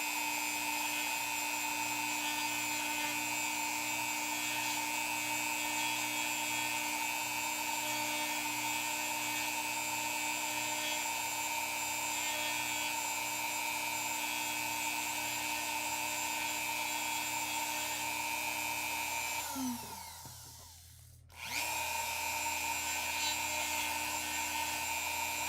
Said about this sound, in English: We'll go back through the old Dremel 4000